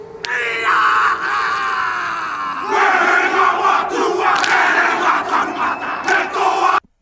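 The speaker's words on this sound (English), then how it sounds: "screaming before the exertion might have an important role in scaring the" Athletes let out power screams before exertion, a loud crowd-like chorus of sustained shouting and battle cries that holds for several seconds, swells again midway, then cuts off abruptly.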